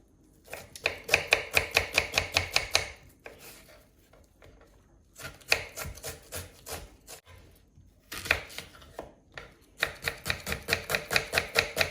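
A knife chops food on a board in three quick bursts of rhythmic, crisp knocks separated by short pauses, close and clear with no talking.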